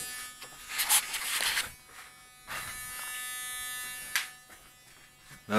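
A shrill, buzzing electronic tone from a parametric speaker, rich in upper harmonics, reflecting off the room's walls and rising and falling in loudness.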